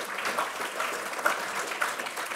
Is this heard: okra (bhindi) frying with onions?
no